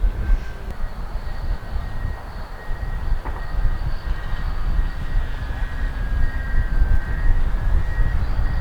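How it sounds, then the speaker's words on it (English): A fixed-wing aircraft drones steadily nearby while a small drone is flown, a continuous engine hum with a faint high whine that slowly swells over several seconds. "So I've got eyes on the drone and eyes on his aircraft."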